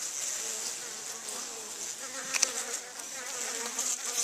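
Honeybees from a hot-tempered colony buzz close around an opened hive during a January inspection. The dense, steady drone continues throughout, with a few louder passes near the listener.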